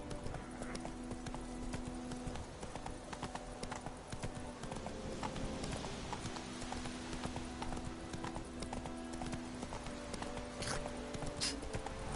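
Roach the horse galloping in The Witcher 3, a fast, steady clip-clop of hooves with a low musical drone beneath, heard up close and fairly even in loudness throughout.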